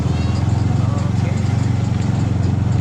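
A motorcycle engine runs with a steady rattling, ticking idle, loud and close, its pulsing beat continuing evenly throughout.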